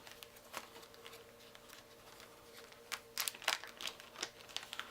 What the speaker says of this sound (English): when pulling the cards out of the plastic bags